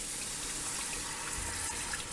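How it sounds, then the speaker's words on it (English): Sauce poured into a hot pan of pork chops with thyme, giving a steady, soft liquid rush with low sizzle and no talking. "And now I'm going to add the sauce right in."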